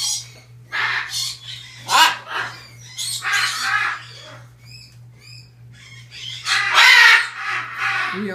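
A macaw lets out harsh, raspy squawks and scratchy calls in bursts, loud and close, with short pauses between cries and a low steady hum underneath.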